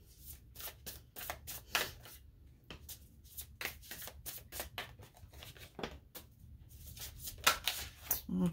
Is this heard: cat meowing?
no